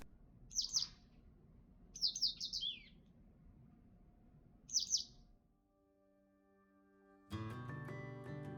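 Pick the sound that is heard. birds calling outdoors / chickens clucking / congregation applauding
birds calling outdoors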